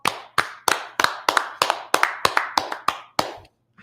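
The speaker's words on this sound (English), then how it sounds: "Let's clap it up for the Lord." A small church audience claps hands during a Tuesday brotherhood class, about a dozen sharp, distinct claps in a steady rhythm, close and fairly loud, with no voices over them.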